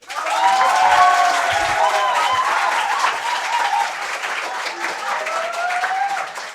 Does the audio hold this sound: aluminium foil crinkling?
no